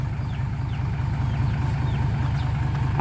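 A tractor engine runs at a steady idle nearby, a continuous low rhythmic chugging with a faint higher hum above, and no voices.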